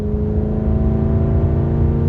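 A BMW 540i E39 with its secondary catalytic converters removed, engine pulling under load in sixth gear: a steady, loud low-pitched drone with smooth harmonic hum and no breaks, heard from inside the cabin.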